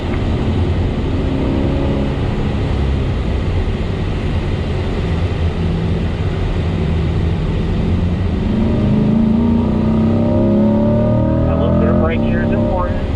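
Corvette C8 engine at speed on the Spring Mountain race track, with loud, continuous in-car engine drone and shifting revs under steady coaching talk.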